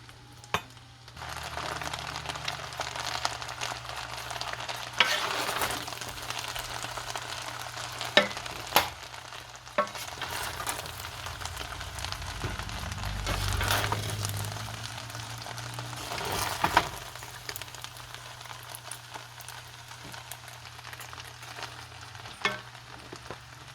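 Rice stick noodles and scrambled egg stir-fry in a hot pan, a continuous sizzle broken by scraping and tossing strokes and occasional sharp clacks of the utensil against the pan.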